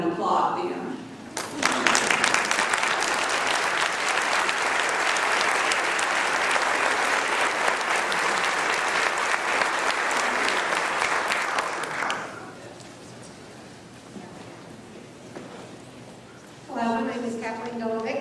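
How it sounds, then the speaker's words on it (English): An audience at a Texas Tea Party Republican Women gathering standing and applauding, with loud, dense clapping sustained for about ten seconds before fading into quieter room sound and a voice beginning to speak. "let's all stand and applaud them"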